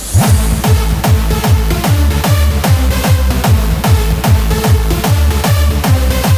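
Punchy, distorted hardstyle kick drums pound at a steady fast four-on-the-floor pace, each with a pitched tail, layered under bright synths and percussion.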